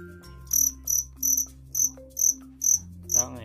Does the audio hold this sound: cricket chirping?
yes